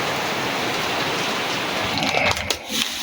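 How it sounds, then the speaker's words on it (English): Heavy rain pours steadily outside a garage, a dense, loud hiss of water that stays constant, with a few faint knocks and shifts near the end. "It started pouring again."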